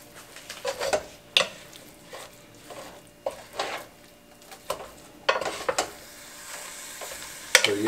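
A spoon scrapes and stirs a chili mac spaghetti mixture in a pan, making irregular clinks and scuffs over a faint sizzle, close and moderately loud.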